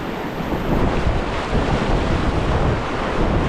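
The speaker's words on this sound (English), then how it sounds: "Some big fucking waves in here." Big river waves crash during packrafting on the Lower Dumoine River, a loud, steady roar of churning whitewater with wind buffeting the microphone throughout.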